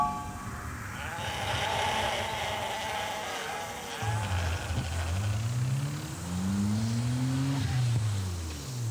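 Sheep bleat repeatedly in the foreground, wavering calls overlapping one another, with a steady outdoor rumble running underneath throughout.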